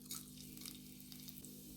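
Cumin, bay leaves and cloves fry in hot oil, giving a faint, continuous sizzle with small crackles over a low steady hum, no voices.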